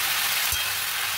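Spinach and garlic frying in a pan, a steady broadband sizzle that holds evenly throughout a short moment, close and fairly loud with a faint low thump midway.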